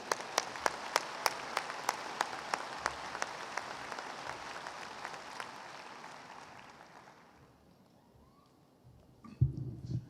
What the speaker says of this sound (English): how about another warm round of applause for Mr. Russell Molina?